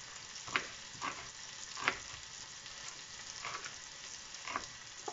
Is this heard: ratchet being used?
no